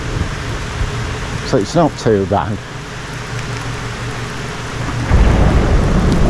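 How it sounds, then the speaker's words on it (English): A heavy rain downpour on a farm with cows nearby, steady hiss throughout and a deep thunder rumble rising near the end, with a short spoken remark early on. "We've had some thunder. We might hear a bit of that."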